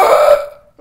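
A single loud, close burp during a lively party game among friends, strong at first and trailing off over under a second, with no talk over it.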